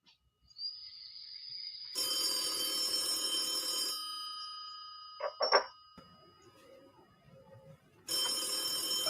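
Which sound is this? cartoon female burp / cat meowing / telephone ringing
telephone ringing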